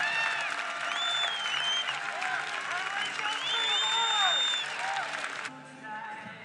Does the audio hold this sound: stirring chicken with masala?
no